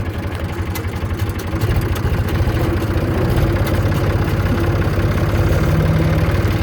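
A Zetor 3320 farm tractor engine runs close by with a steady, low diesel chug that grows slightly louder after the first couple of seconds, alone without talk.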